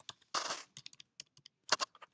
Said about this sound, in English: You can type into them.